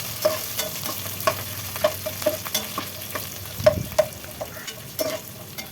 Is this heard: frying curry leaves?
yes